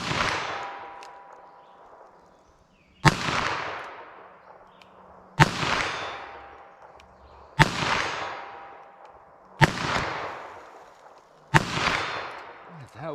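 Six sharp rifle shots of CCI Uppercut .22 WMR rounds fired at a target, evenly spaced about two seconds apart, each a loud crack followed by a long decaying echo.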